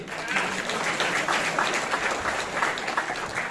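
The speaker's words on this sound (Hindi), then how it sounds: "तालियां बजाइए इनके लिए" Audience applause at a Bhagavad Gita talk after a prize-giving, a steady wash of many hands clapping throughout, fairly loud and close with no gaps.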